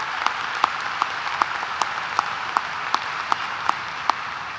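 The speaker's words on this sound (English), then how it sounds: "Please give all of these students a round of applause for their many accomplishments." Audience at a high school graduation ceremony applauding, a dense steady wash of clapping from a large crowd with a few sharper individual claps popping out, sustained throughout.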